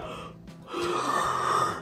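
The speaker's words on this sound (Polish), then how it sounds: "To mi też ziewa." A person yawns aloud at close range, one drawn-out breathy yawn that swells and holds for about a second, after a brief quieter pause, with no talk.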